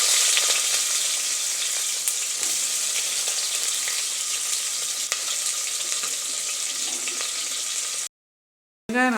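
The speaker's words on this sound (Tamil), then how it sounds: "வெங்காயம் நல்லா இந்த அளவு வதங்கிருச்சுங்க" Sliced onion frying in hot oil with fennel, cinnamon, cardamom and clove for a mutton gravy: a steady, loud broadband sizzle that crackles continuously, broken by an abrupt silence near the end before a brief resumption.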